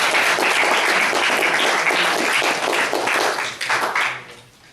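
An audience applauds to welcome a speaker to the stage at an evening talk, loud steady clapping that tapers off toward the end.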